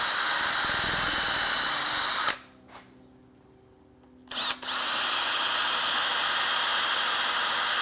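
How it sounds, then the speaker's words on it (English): A power drill bores pilot holes with a 1/8 inch bit during a workbench build, whining loud and steady for about two seconds, stopping, then a brief restart and a longer continuous run. "Now I'm just going to drill my pilot holes with an 1/8 inch bit."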